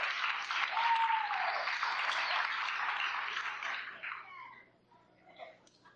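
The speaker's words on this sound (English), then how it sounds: "Got a big round of applause for the band up there." Crowd applause for a band at a stage hypnosis show during a small-town Iowa corn festival; loud, sustained clapping and some cheering that fades out near the end, followed by faint scattered sounds.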